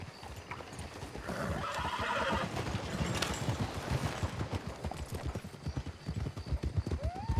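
Horse hooves clip-clop in a steady walking rhythm in a video game, close and clear, with a brief whinny and faint background sounds.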